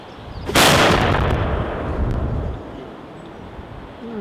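A single loud gunshot fired at birds over the pan of an old gun, one sharp close blast followed by a long rumbling decay that fades over a few seconds.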